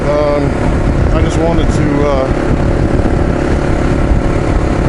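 Kawasaki KLR motorcycle engine running, a steady low rumble close by, heard under someone talking throughout.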